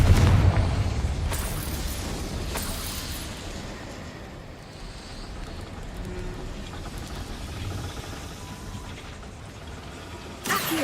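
In Hogwarts Legacy, a Confringo blasting spell explodes with a loud burst at the start, followed by a rumbling decay and scattered debris crackles, then another sharp blast near the end.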